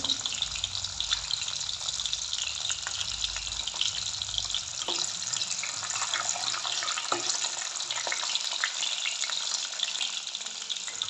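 Garlic frying in oil in a pan for a banana sambar, a dense bright hiss of sizzling that runs steadily and close throughout, with occasional faint clicks and no speech.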